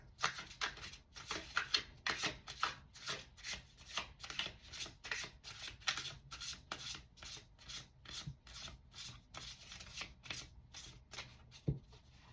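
Tarot cards are shuffled by hand in a quick, steady rhythm of soft riffling and rubbing strokes, close and continuous throughout with no talking.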